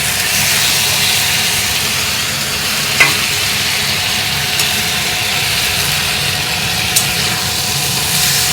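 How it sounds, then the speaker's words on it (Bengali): A cabbage curry sizzles steadily in a pan with ghee and garam masala while being stirred, a continuous frying hiss with a few faint utensil scrapes and no talking. "ঘি গরম মশলাটাও তাতে দিয়ে দিলাম। ভালো করে একটু নাড়াচাড়া করে নেব।"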